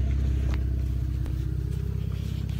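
A 2015 Chevrolet Camaro drives along on a test drive, its engine a steady low rumble from inside the cabin, holding constant with slight fluctuations and a couple of faint clicks.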